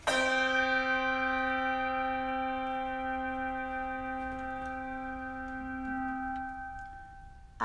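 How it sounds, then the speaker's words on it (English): A single chapel bell strike rings out clearly, its rich metallic tone sustaining and slowly decaying over several seconds before a faint second sound at the end. "and the chapel bell rang"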